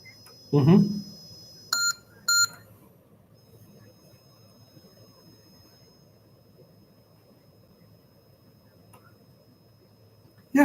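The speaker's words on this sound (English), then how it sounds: "Hello, got a phone call." A few short electronic telephone beeps and dialing tones, two brief bright bursts after an initial thump, then a faint steady tone over quiet room background, with a voice briefly present.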